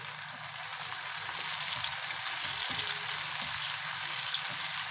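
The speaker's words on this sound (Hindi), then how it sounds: "और इसको भी हल्का सा फ्राई करेंगे 1 मिनट तक।" Tomatoes and chopped coriander fry gently in a pan for anda chingari, producing a continuous close hiss of sizzling oil that grows slightly fuller, with faint stirring knocks.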